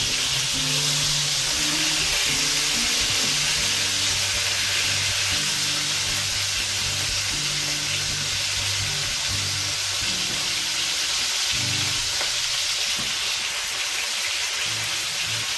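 Beef browning in a pan sizzles steadily and loudly up close, a dense, hissing fry with occasional crackles that carries on for the whole stretch without any talking.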